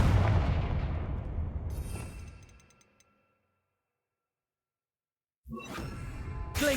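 A Confringo blast spell fired in the Hogwarts Legacy video game, a loud booming burst that rings out and fades over about three seconds into silence before other loud game sounds resume.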